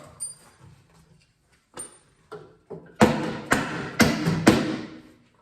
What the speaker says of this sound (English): Hammer work.